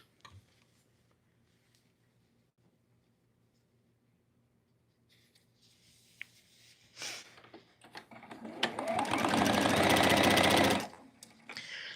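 Sewing machine stitching a patch piece onto a zipper pouch, quiet at first with faint handling, then a few short whirring bursts building into a loud, steady run of needle strokes before stopping.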